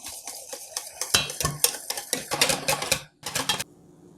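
Gram flour (besan) being mixed into whisked yogurt in a bowl for kadhi, heard as rapid, close whisk or spoon clatter against the bowl in dense bursts, pausing briefly near the end before a last flurry.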